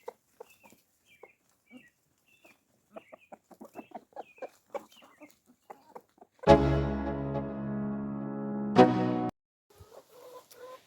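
Chickens cluck in a busy, irregular chatter close by, followed by a loud sustained creaking, rattling noise before more clucking.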